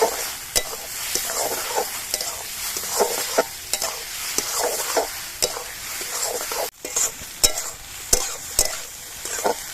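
Close, continuous sizzling of vegetables and eggs frying in a pan, with a spatula repeatedly scraping and tapping the pan in an uneven rhythm.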